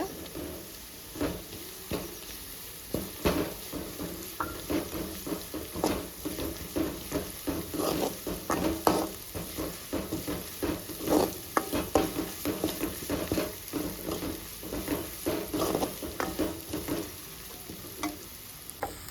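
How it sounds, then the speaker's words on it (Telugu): Tempering of ginger and coconut paste fries steadily in a pan for bitter gourd curry, a continuous close sizzle with frequent stirring scrapes and clicks throughout. "ఇప్పుడు మంచిగా ఫ్రై చేసుకోవాలి ఇప్పుడు తాలింపు బాగా ఫ్రై అయింది"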